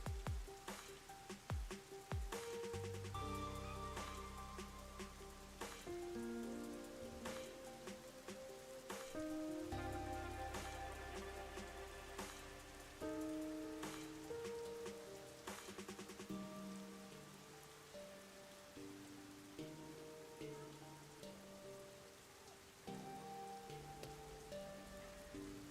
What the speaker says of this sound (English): There was about red rain falling around here.